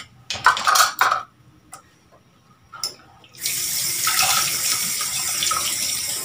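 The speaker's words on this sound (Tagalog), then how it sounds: "Panahugasan pa lang mga sandok." Running tap water pours steadily into a sink while ladles are rinsed, after a few brief clinks of metal utensils and dishes at the start, close and continuous with no talking.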